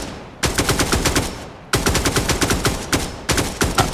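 Sustained machine-gun cover fire from enemies in the Dagger Directive video game, rapid loud bursts in three long volleys separated by brief gaps, close and dominant with no talking.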